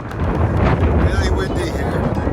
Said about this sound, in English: It's incredibly windy here. It's amazingly windy.